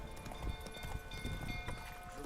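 Roach, a horse in The Witcher 3, galloping with a faint, steady clip-clop of hooves under low background game ambience.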